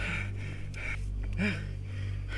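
An injured, knocked-out man at a camping site draws a short gasping breath, one clear inhale near the middle over a steady low hum, with softer breathing noise around it.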